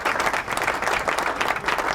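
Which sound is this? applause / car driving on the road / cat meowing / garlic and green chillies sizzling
applause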